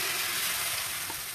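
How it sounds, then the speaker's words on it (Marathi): Gram flour (besan) batter hits a hot, oiled tawa for dhirde and sizzles loudly. The crackling hiss is dense and steady, close up, with no voices. "आता आपल्याला या तव्यावर बेटर टाकायचं आहे"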